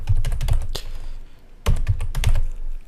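Someone types on a computer keyboard in short bursts of crisp, close key clicks, pausing briefly between clusters of strokes.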